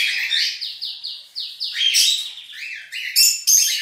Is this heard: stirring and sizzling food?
no